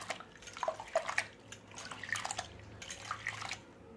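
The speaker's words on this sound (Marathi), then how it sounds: "तर परत एकदा अगदी अलगद हाताने डाळ चोळून धुवून घ्यायची आहे" Moth bean lentils are rubbed and rinsed by hand in a bowl of water, giving soft, intermittent splashing and dripping sounds at close range with no talking.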